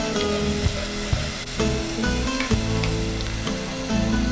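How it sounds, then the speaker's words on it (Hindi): Garlic paste frying with lightly browned onions in a pan for a rasey aloo gravy, a loud, close, continuous sizzle with rhythmic scraping strokes of a spoon stirring through it. "आधा मिनट भूनेंगे"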